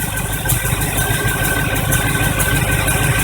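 The engine of a 1985 Chevy truck runs at a steady idle after a fuel pump replacement, a loud, close, even rumble with a faint high whine and no talking.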